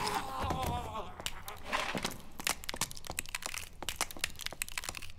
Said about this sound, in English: These are some crunchy skulls.